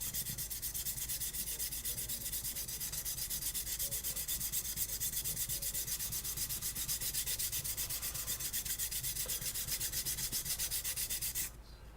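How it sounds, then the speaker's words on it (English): Stainless steel Byzantine weave chain, 5/16-inch 14-gauge links, being sanded to take off surface layers: a continuous, even rubbing scrape heard close and alone, with a brief shift in tone at the very end. "You usually have the layers in it that you have to kind of sand off."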